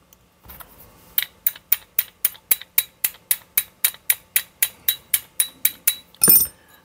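Light metallic taps on Morris Minor carburettor parts during a rebuild, about eighteen evenly spaced sharp clicks in a steady rhythm, close and clear, ending with a brief rustling clatter.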